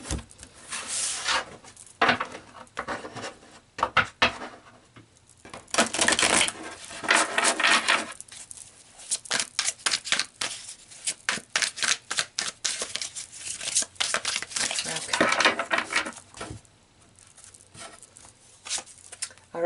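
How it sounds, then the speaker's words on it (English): A deck of tarot cards is shuffled by hand in repeated bursts of crisp riffling and flapping, close and fairly loud, with short pauses between passes. "I feel like I need a shuffle."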